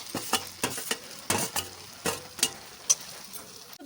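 Boiled fish with spices and pointed gourd seed paste is stir-fried in a pan, with a sizzling bed broken by regular scraping and clacking strokes of a spatula, close and fairly loud.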